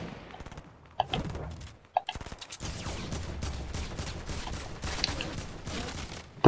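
Gunfire in a Fortnite match, scattered single shots early, then a dense run of rapid rhythmic bursts, moderately loud and close.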